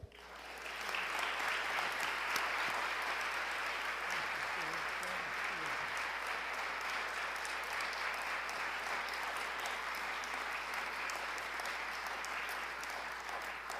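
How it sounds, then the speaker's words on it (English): A lecture-hall audience gives sustained, even applause for a distinguished lecturer, steady and dense throughout with no voices breaking through. "please give a round of applause to John Lounsbury"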